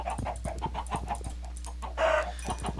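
Chickens in Minecraft on an FTB modpack server cluck in a steady run of short, close calls, with a louder squawk near the end, no talking.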